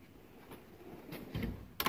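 A toolbox drawer that is still being broken in slides open, giving a short metallic rolling rasp that builds over a second, then ends in a brief clack, close and fairly quiet.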